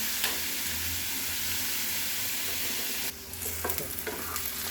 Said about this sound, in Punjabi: ਮੇਰੇ ਪਿਆਜ਼ ਥੋੜੇ ਜਿਹੇ ਹੋ ਜਾਣ ਬਹੁਤੇ ਆਪਾਂ ਨੇ ਲਾਲ ਨਹੀਂ ਕਰਨੇ ਥੋੜੇ ਟ੍ਰਾਂਸਪੇਰੈਂਟ ਜਿਹੇ ਹੋ ਜਾਣ